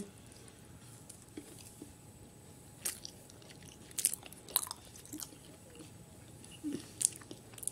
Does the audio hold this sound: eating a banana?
yes